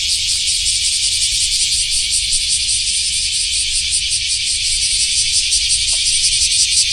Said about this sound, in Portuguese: E as cigarras berrando.